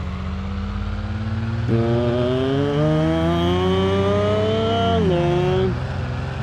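An Isuzu truck carrying a 3-ton load on a rough village road gives a loud, steady engine drone whose pitch climbs as it revs and then falls away, with no talk over it.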